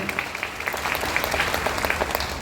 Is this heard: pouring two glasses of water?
no